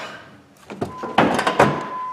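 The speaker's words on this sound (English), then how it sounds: "The door's kind of noisy to open because it's kind of jamming up over here." A Jeep Grand Cherokee door creaks open with scraping, clunking jolts as it catches and sticks, a few uneven knocks and a brief squeal.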